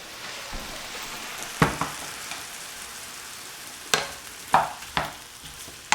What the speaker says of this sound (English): I think my meat is getting a sear on to the point where it's time to put the onions in.